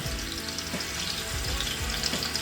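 Marinated chicken thighs browning in olive oil in a pan, a continuous hiss of frying with a few low knocks as pieces shift.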